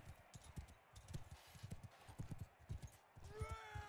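Horse hooves clip-clop in the medieval battle game Mount & Blade II: Bannerlord, a quick uneven galloping rhythm of soft thuds throughout, ending with a brief whinny and someone speaking over it.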